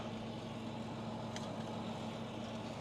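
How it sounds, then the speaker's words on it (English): A John Deere 8530 tractor engine runs at a steady idle, a continuous low rumble with a constant hum, heard close and alone. "The tractor sounds just fine."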